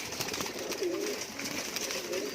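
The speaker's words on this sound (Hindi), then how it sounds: "ये सारे ब्रीडिंग वाले कबूतर है" Breeding pigeons in a loft give soft, low cooing calls, two or three short rolling coos heard close over a faint background hum.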